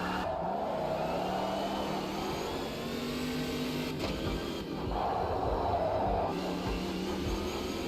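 A race car in a racing video game accelerates around the track to warm its cold tyres, the engine note rising and falling steadily at moderate volume with no talk over it.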